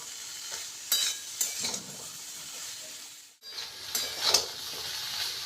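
Fig curry sautéing in a pan in a Bengali kitchen, soft sizzling with a few scraping stirs and spatula knocks, fairly quiet, with a brief pause in the middle.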